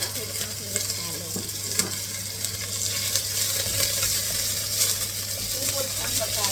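Minced garlic sizzling and frying in a pan for mussels in cream sauce, a steady dense hiss with occasional stirring scrapes, close and continuous without a break.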